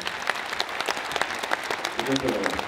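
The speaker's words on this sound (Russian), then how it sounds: "Я думаю, это достойно уважения ваших аплодисментов" A seated audience at a university guest talk breaks into applause, many hands clapping in a lively patter, with a voice briefly audible under it near the end.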